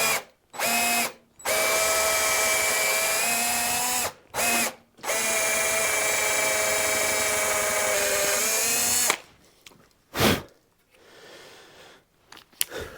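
A power drill bores into the hard metal of a Stratocaster tremolo block, several loud sustained whining bursts separated by short pauses, then stopping near the end with a few faint handling noises.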